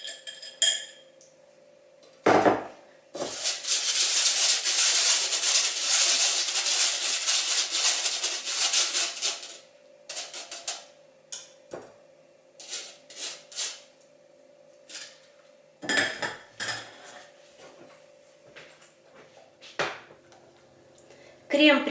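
A lemon cream mixture is pressed through a metal sieve, a long scraping rasp followed by scattered clinks and knocks of pots and utensils, with a voice talking between the sounds.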